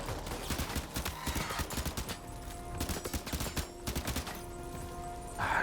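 Enemy gunfire in the video game Death Stranding 2, rapid repeated shots in steady bursts close by, mixed with crackling fire and game ambience.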